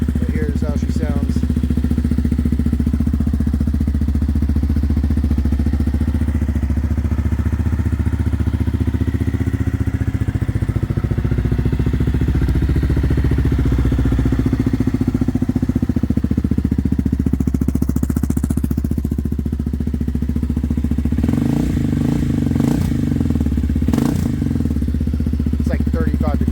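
A new KTM 300 motorcycle runs steadily after a cold start in about 35-degree weather, a loud close engine drone throughout with some clattering, while someone talks over it.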